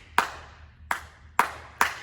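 Four crisp hand claps in an uneven clave pattern, close and clear in a quiet room, demonstrating the salsa rhythm concert crowds use to call for an encore.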